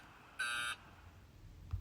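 A single short electronic alarm clock buzzer tone from a phone alarm app, bright and harmonic, lasting about a third of a second over a quiet background.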